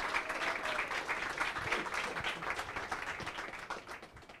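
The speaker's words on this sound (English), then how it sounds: "Now you can clap." An audience at a talk on walkable cities claps steadily for about four seconds, a dense even patter that fades slightly toward the end, with a few faint voices underneath.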